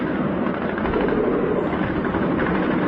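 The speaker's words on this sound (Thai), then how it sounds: "ทีมต้านอากาศยานของกองทัพรัสเซียพยายามยิงสกัดกั้นโดรนคามิกาเซ่ของยูเครนจนถึงลำสุดท้าย" Russian anti-aircraft guns fire at incoming Ukrainian kamikaze drones near an oil port and refinery, a loud, continuous roar of rapid gunfire that blurs into a dense, unbroken rattle with no voices.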